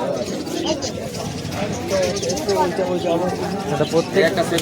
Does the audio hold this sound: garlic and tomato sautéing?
no